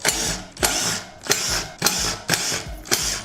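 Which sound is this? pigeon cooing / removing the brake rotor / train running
removing the brake rotor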